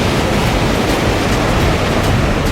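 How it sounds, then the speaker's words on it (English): Rough sea surf rolls onto a beach in Freeport, a loud, continuous roaring wash of waves with wind buffeting the microphone and no voices. "We're going to let y'all see the water here because it's really rough today."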